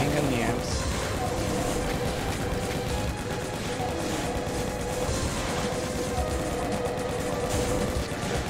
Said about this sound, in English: Now let's just chain gun the imps.